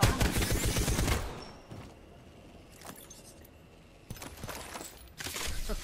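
Light machine gun fire in Apex Legends: a loud rapid burst of shots for about a second, then a few isolated sharp cracks and short bursts, with quieter gaps between and a final burst at the end.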